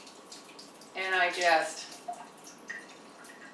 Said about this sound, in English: So I simply run water through it.